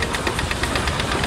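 A 1924 portable steam engine rated at 50 horsepower, with an 8.5 by 10 bore and stroke, runs at a steam show, giving a rapid, steady mechanical chuffing and knocking, loud and close with no talking.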